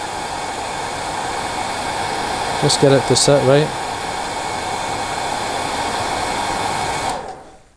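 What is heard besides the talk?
hair dryer blowing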